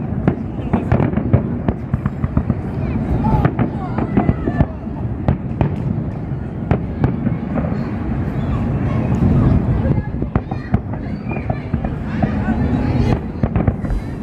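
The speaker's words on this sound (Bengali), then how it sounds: "ফেস্টিভ্যাল সিটির ফায়ার ওয়ার্কস হয় 8:30টার সময়।" Fireworks go off at Dubai Festival City in a busy outdoor show, with repeated sharp bangs and crackling bursts over a rumbling crowd backdrop, and people talk throughout.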